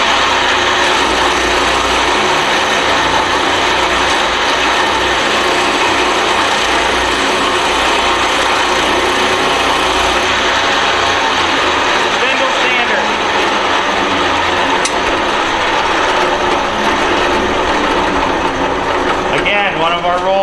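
A spindle sander runs continuously in a school woodshop, sanding inside curves on a wooden workpiece, making a loud, steady motor whine with a grinding rasp throughout and a brief tonal change near the end.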